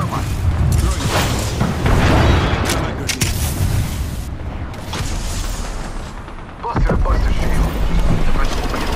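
A thermite grenade is thrown and bursts into flame during an Apex Legends firefight: loud, booming blasts and crackling bursts come close together, then ease off briefly before another heavy surge near the end.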